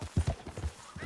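Horse hooves galloping in Red Dead Redemption 2, a rapid, rhythmic clip-clop of four or five heavy, close thuds over a short stretch with no talk.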